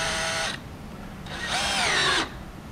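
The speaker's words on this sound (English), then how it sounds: "Let's put our screw in." Cordless power drill driving a screw into a wooden face frame held by a Kreg pocket-hole clamp, two close, loud whirring bursts with a short pause between them and no talk.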